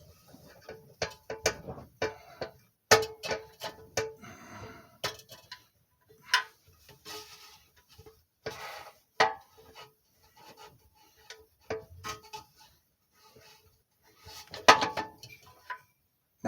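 A bolt is worked out of the carburetor on a 5hp Briggs and Stratton racing go kart engine with a ratchet, giving sharp, close, irregular clicks and metallic ticks in short bursts separated by quiet gaps.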